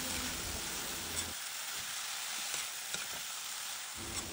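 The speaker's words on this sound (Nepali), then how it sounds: "अब चाहिँ अघि उसिनेर राखेको जरिङ्गोको सागलाई त्यसमाथि राखेर राम्रोसँग" Boiled jaringo greens being stirred in a hot pan with cumin and coriander powder, giving a steady loud sizzle with scraping strokes throughout.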